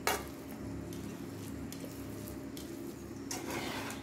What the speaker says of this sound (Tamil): சூடான சாப்பாடு போட்டு நல்லா கிளறணும்